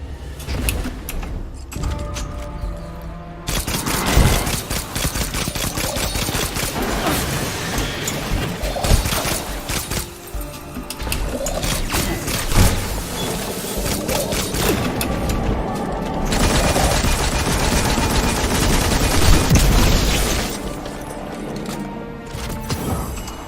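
Arc pistol fire in Destiny 2 crackles in long, dense bursts of sharp electric shots, loud and close, continuing for over twenty seconds with brief lulls between volleys.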